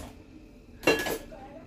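A heavy cooking pot, not iron, is handled on a kitchen stove for khichdi while water heats, giving one short metallic clatter and clink mid-clip with quiet room noise around it.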